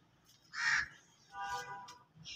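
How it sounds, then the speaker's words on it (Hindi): Crow cawing outdoors in a sunny garden, two distinct harsh caws about a second apart, moderately loud against quiet background, with a third call starting at the end. "वो बैठा हुआ है कौवा"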